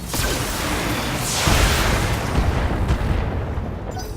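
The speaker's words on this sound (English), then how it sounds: "Firing." Weapon fire and explosions from a BattleTech video game make a loud, dense, continuous roar of booms and blasts for several seconds, with no talk.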